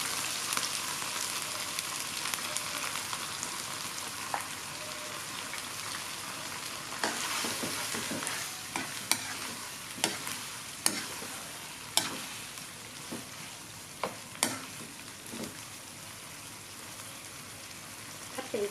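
Beef stir-fried with green curry paste and coconut milk sizzles steadily in a pan, a constant crackling hiss punctuated by sharp scraping clicks of the spatula that grow more frequent and pronounced toward the end.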